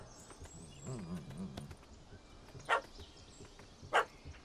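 A puppy yaps twice, short sharp barks a second apart, in a village scene from The Witcher 3 video game, over soft ambient outdoor noise and faint birds, with a lower rumble of background sound.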